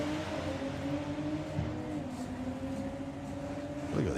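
Drag racing cars accelerate down the strip at a Doorslammers event, their engines heard from a distance as layered rising tones that climb in pitch over a few seconds at a fairly faint level.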